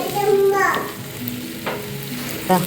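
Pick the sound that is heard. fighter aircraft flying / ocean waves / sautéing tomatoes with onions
sautéing tomatoes with onions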